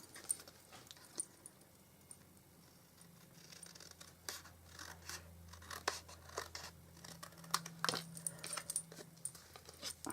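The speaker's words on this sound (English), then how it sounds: "Cut it straight now." Scissors cutting paper for a Stampin' Up Santa's workshop treat holder: faint, close, irregular snips and crisp paper rustles over several seconds, with quiet handling sounds between.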